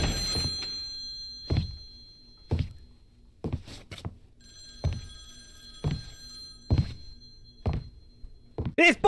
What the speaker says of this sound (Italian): Rispondi a quel telefono!